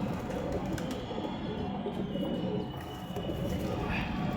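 Pigeons coo faintly in a dense, noisy background with a constant low rumble; the calls blend into the ambient din rather than standing out.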